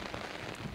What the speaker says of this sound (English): On our last day there, the rain got a bit too heavy.